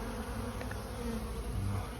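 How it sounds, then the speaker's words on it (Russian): Honeybees hum busily around a hive in a cold region of northern Norway in early spring, a dense, steady close-up drone with individual buzzing passes standing out now and then. "Яка хороша работа у пчел."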